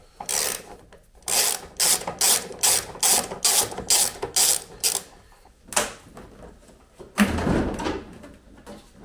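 A ratchet works a large Torx-headed screw out of an MG TF front bumper: a loud, close run of quick, evenly spaced clicking bursts, then a few looser rattles and scrapes as the screw comes free.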